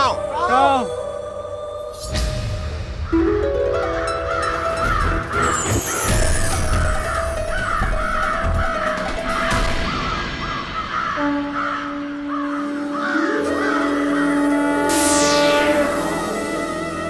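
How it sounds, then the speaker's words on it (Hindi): Repeated crow caws ring out in a steady series over a dense, busy background of music and dramatic sound effects, with voices present in a mythological television drama scene. "काव काव काव काव काव।"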